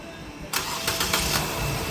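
A car engine cranks over in a few quick pulses and catches, settling into a steady idle.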